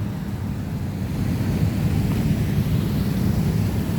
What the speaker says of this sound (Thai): น้ำไหลลงท่อเหมือนเดิมพี่น้อง